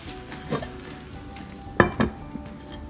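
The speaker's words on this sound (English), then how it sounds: "put the lid on" Soft sizzle of a broccoli grilled cheese sandwich frying in a pan, broken by a few clinks of a lid being set on, including a sharper metallic knock near the end.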